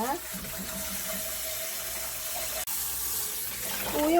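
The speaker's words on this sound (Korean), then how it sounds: "끓어 오르기 시작하면 불을 끄고 찬물로 바로 갑니다. 찬물에서 여러 번 헹궈줍니다." Cold tap water runs steadily into a sink as freshly boiled noodles are rinsed, a continuous close splashing rush with a brief interruption and some faint clatter near the end.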